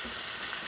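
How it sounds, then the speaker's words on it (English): Steady pressurized steam hisses out of a Saeco Encanto espresso machine, a continuous bright rush with no pauses, close and fairly loud. "excellent pressure of steam coming out of the machine"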